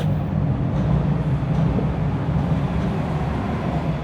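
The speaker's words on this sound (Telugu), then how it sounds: "అదిగోండి మన ట్రైన్" Continuous low rumble of a train rolling into a station in Toronto, steady and fairly loud, with no voices.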